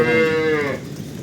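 A single loud, close moo from a Holstein Friesian dairy cow, drawn out for most of a second before trailing off.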